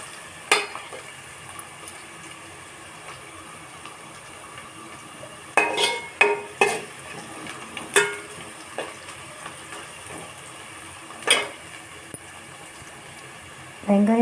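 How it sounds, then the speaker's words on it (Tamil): Chopped onions sautéing in a pan for a homemade anchovy fish curry, with intermittent sharp clinks and scrapes of a spoon stirring against the metal over a faint background. "அதுக்கப்புறமா நம்ம கட் பண்ணி வச்சுருந்த வெங்காயத்தை போட்டு நல்லா வதக்கணும்"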